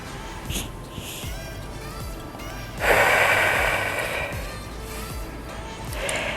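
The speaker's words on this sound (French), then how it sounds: "Et on expire pour mobiliser la cage thoracique." During a posture exercise, a person exhales forcefully through the mouth in a long, breathy rush. Quieter breaths come before it and another follows near the end, all close up, with a faint low background hum.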